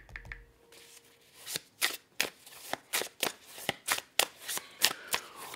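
A deck of cards is shuffled up close, a quick rhythmic series of sharp riffling snaps and flicks repeating for several seconds, with no talking.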